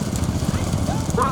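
Hooves clip-clop in a quick, rhythmic patter at a rural horse race, loud and close, while someone talks over them and a brief whinny-like cry rises near the end.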